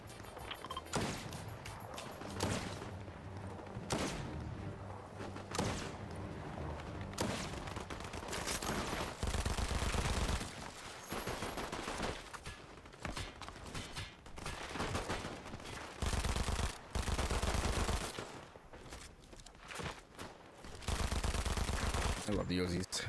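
Uzi gunfire in a video game, rapid automatic bursts repeating in loud, close clusters with short pauses between them, over a busy game soundscape.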